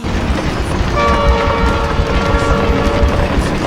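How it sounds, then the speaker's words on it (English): A train rumbles closer in a movie scene, a loud, continuous roar of wheels on rails with a sustained horn blaring over it, no talk. "I looked up at the train coming closer"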